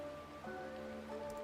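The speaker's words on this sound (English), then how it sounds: "This is the sound of rain." Faint video-game rain patters steadily beneath a soft, sustained musical tone, short and continuous with no voices.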